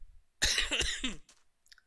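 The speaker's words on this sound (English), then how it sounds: "I'm trying real hard not to cough on stream, guys, but it's kind of hard" A run of several harsh coughs bursts out close to the mic, fairly loud, then trails into a brief throat sound and faint clicks, with no talk over it.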